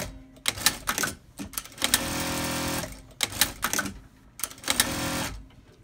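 A CT-8700 sewing machine stitches in repeated rapid mechanical bursts, whirring and clattering up close, with brief pauses between runs.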